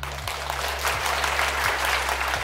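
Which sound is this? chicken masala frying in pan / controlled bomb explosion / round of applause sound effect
round of applause sound effect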